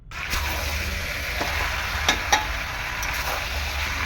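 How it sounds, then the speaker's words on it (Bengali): Bony chicken pieces with fried potatoes and salt sizzle in a pan over a high gas flame. A continuous, close frying crackle runs throughout, broken by a few sharp scrapes and clinks as the mixture is stirred. "এরকম ভালো করে নাড়াচাড়া করে কষিয়ে নেবো 2 থেকে 3 মিনিট, গ্যাসের ফ্লেম হাই করে"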